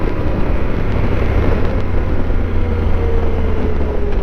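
A motorcycle engine droning steadily at speed on a highway, loud and continuous, with heavy rushing wind noise.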